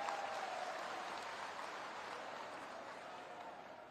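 Distant crowd at a Lok Sabha election rally in Karana, Uttar Pradesh, applauding steadily to welcome Chief Minister Yogi Adityanath, a faint even wash of clapping.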